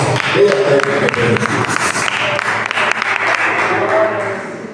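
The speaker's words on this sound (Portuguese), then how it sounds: "Vamos receber o céu do Senhor com as palmas." A church congregation at an evening service claps hands together, a loud, dense and continuous wash of clapping with voices mixed in over it.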